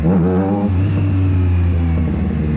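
Triumph Street Triple motorcycle engine revving close up, loud and rumbling, pitch climbing sharply then settling into a steady throaty drone.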